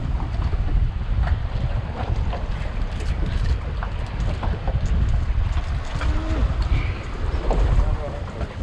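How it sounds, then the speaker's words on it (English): Caribbean sea waves rolling around a commercial handline fishing boat, a continuous loud wash of water mixed with buffeting wind noise, with faint voices in the background. "Waves are rolling."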